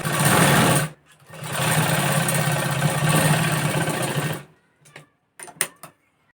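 A sewing machine runs in two long bursts while stitching a katori blouse, a steady close mechanical whir, followed by a few short clicks and brief taps before it falls quiet.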